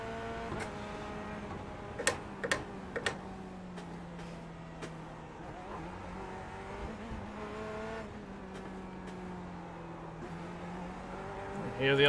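LMP2 prototype race cars from the iRacing sim at the 12 Hours of Sebring, their engines droning and shifting pitch as they pass, with a few sharp clicks and a voice talking over the steady engine noise.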